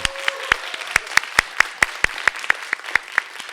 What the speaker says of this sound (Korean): 큰 소리로 박수로 좀 격려하겠습니다.